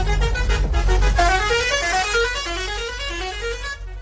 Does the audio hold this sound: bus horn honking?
yes